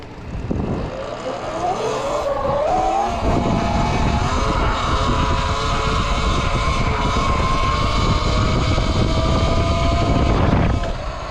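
An electric dirt bike pulls a wheelie in eco mode, its motor giving a loud, steady whine that climbs in pitch over the first few seconds and then holds, with wind and tyre roar beneath it.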